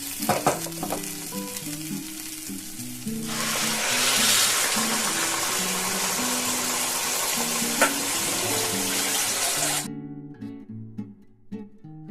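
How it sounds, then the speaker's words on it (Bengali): Hot water is poured into sizzling pulao in a pan, setting off a loud, close hiss that builds, holds for several seconds and then cuts off abruptly, over a faint tonal background. "আমি এখন কিন্তু এটাকে গরম জল করে নিয়েছি একটুখানি গরম জল করেছি সেই গরম জলটা এখন দিয়ে দেবো"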